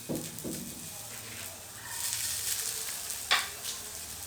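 Fennel, poppy seeds, peppercorns, cumin and grated coconut sauté in a pan for a mutton curry, producing a soft continuous sizzle with a few stirring scrapes and one sharp clink near the end.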